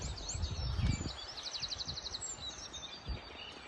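Many wild birds chirp and trill at dawn outdoors in cold air around 4 or 5 degrees, a layered chorus of high calls with one rapid repeated trill, fairly faint over low rustling background noise.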